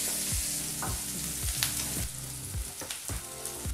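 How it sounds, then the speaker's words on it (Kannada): Finely chopped onion frying in oil over a medium flame for Andhra-style palak dal, soft sizzling under a series of sharp, evenly spaced clinks and scrapes of a spatula against the pan. "ಬಹಳ ಚಿಕ್ಕದಾಗಿ ಕಟ್ ಮಾಡಿದಂಥ 1 ಈರುಳ್ಳಿನ ಹಾಕಿ ಮೀಡಿಯಂ ಫ್ಲೇಮ್ನಲ್ಲಿ 2 ನಿಮಿಷ ನೀಟಾಗಿ ಫ್ರೈ ಮಾಡ್ಕೋಬೇಕಾಗತ್ತೆ"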